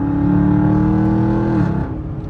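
Camaro Super Sport engine revs hard and pulls away, a loud, close, rising roar that holds steady before easing off near the end.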